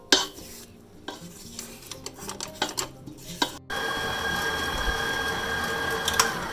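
A spatula scrapes blueberry muffin batter down the sides of a mixing bowl in a home kitchen, giving irregular close scuffs and taps that turn into a steadier, louder scraping and stirring texture in the second half.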